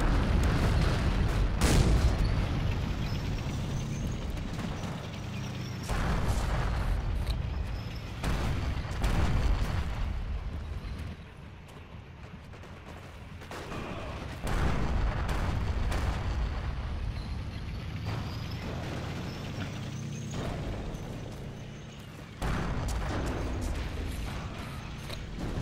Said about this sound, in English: Oh, anti-tank mine, huh?